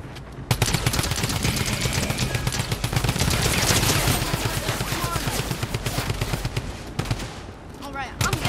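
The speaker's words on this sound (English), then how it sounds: "It's all just... drum guns." Drum guns firing in Fortnite: dense, continuous rapid-fire bursts, loud and close, with a voice heard under the shooting.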